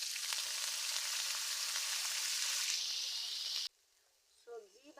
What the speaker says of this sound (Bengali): কেটে রাখা গাজর, আলু, পেঁয়াজকলি সব একসাথে আমি ভেজে নেব।